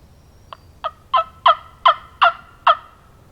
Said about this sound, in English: Another bird just gobbled way down the holler where those 2 just came from.